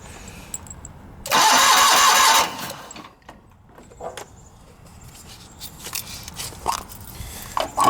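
An old John Deere 318 lawn tractor engine cranks once in a loud, dense burst lasting about a second, then drops away into quiet with scattered faint knocks and rustles afterward.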